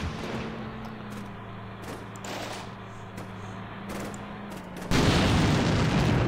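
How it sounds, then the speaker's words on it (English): Secondary explosion in the Combat Mission Black Sea video game: a low steady hum with scattered distant thuds and reports, then a sudden loud, broad blast that keeps roaring to the end, with no talk. "That was a secondary explosion."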